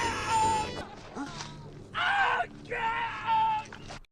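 Sampled scream from the Golden Axe arcade game, the same one used in Rambo, played back several times as harsh, strained yells in separate bursts, each loud and slightly lo-fi with short gaps between.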